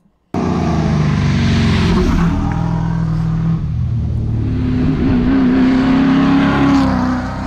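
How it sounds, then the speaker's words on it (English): A loud, deep Ford Falcon Cobra V8 race car engine roars continuously nearby at the Targa Tasmania rally, its pitch rising and falling slightly as it holds steady under load. "This Ford just has an awesome racing V8 sound."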